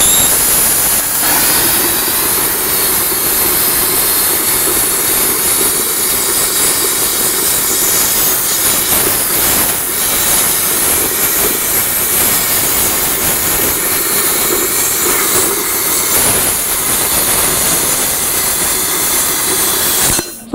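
A plasma cutter slices through rusty, painted steel I-beam stock, producing a loud, steady, close hissing roar that holds without a break for about twenty seconds, with no talk over it.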